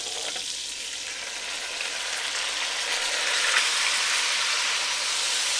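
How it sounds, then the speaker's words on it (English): Browned beef for barbacoa returned to the pot with its juices, a steady, dense sizzle and bubbling hiss that holds evenly throughout with no voices. "we're going to put all the meat back in with its juices"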